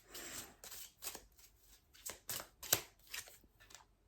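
Oracle cards are shuffled and pulled in a quiet room, giving a series of soft, papery riffles and flicks in irregular bursts, with one sharper snap near the middle.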